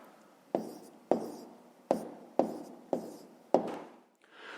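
Pen or chalk writing out fractions for a fifth-grade maths exercise, six distinct close scratching strokes in a steady rhythm, each a sharp attack that fades quickly.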